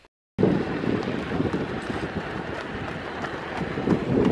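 Strong wind buffets the microphone in a loud, continuous roaring rush after a brief moment of silence at the start.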